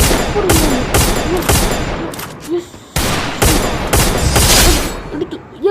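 Rapid bursts of gunfire from the Free Fire battle royale game, repeated sharp shots in clusters across the whole stretch, loud and close, with brief pauses between volleys and a faint voice in the background.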